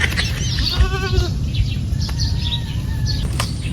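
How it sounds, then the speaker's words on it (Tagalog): Several goats bleat on a farm while being fed, with one clear wavering bleat standing out mid-clip over a steady background of shuffling and other animal noise. "So yan na yung ating mga kambing."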